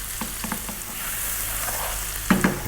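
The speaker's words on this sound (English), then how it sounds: "Keep it moving all the time now, you know, really often. I don't want that garlic and ginger to burn." Garlic and ginger fry in a pan for a Bihari chicken curry, a steady close sizzle broken by light scraping and clinks as they are stirred often, with no talking.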